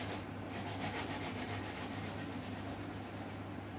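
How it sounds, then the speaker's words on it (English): Green banana is grated by hand for dumplings, a soft continuous scraping and rasping that pulses in a quick regular rhythm, close and fairly quiet throughout. "And as I grate my banana, pieces like these will come."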